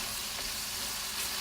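Garlic sizzles and fries steadily in a hot pan for drunken noodles, a continuous close crackling hiss with no talking.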